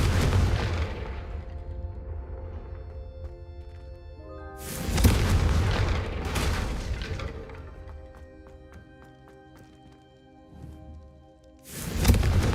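Confringo fire spells explode in the Hogwarts Legacy video game: a few loud booming blasts with long ringing, tonal tails, spaced several seconds apart over a quiet game background.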